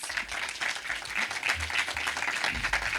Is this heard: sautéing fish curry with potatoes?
no